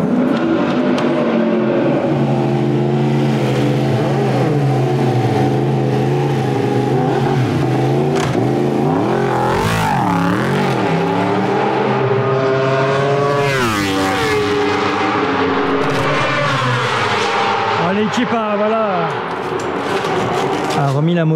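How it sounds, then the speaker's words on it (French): A Yamaha racing motorcycle run by the GMT94 team rides out on track at the Portimão circuit during a test, its engine a loud, continuous roar that rises and falls in pitch as the bike revs and shifts gears. "La moto en état et Valentin repart pour cet test à Portimao."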